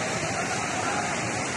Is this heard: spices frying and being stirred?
no